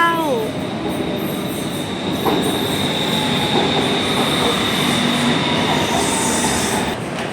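A train pulls into a railway station in Thailand, its wheels squealing in high sustained tones over a loud, steady rolling rumble of the railcars.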